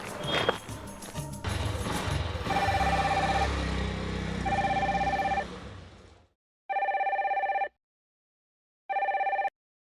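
Telephone bell rings in two loud, evenly spaced bursts after a pause, following a busy stretch of movement and shuffling sounds in a Kannada short film scene.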